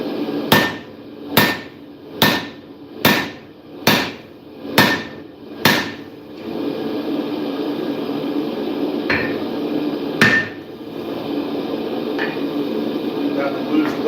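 Steady hammer blows ring out on hot steel as a bladesmith forges a straight pein hammer, about eight sharp, evenly spaced strikes, then a pause with a few isolated clangs over a workshop background.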